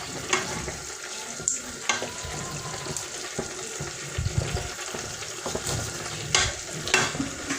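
Snail and spinach stew with spices being stirred in a pot, spoon scraping and clinking in short bursts over a soft steady simmer, close and moderately loud with no talking.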